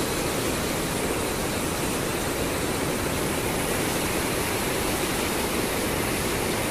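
The Jaldhaka river rushes past near Jhalung on the India–Bhutan border, a steady, dense roar of flowing water that holds even for the whole stretch with no break.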